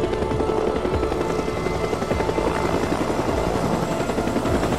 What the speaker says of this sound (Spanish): estamos en un apocalipsis y hay por ahí un helicóptero